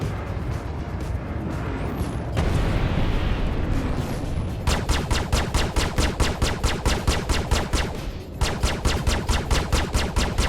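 Missile launch in a video game: a loud whooshing blast followed by a long, fast, rhythmic series of sharp repeated bursts, heavy and close, with no talk.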